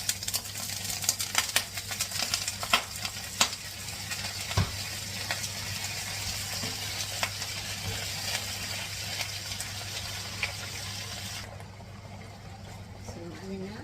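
Lettuce goes into pancit bato noodles frying in a pan, a steady close hiss of sizzling with frequent clicks and scrapes of stirring that fades near the end, and a voice speaks over it.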